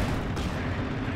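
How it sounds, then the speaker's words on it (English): A concussive grenade blast in Company of Heroes 2 is buried in a dense, unbroken roar of battle noise that fills the whole moment at steady loudness. "Oh, but he runs right into that grenade"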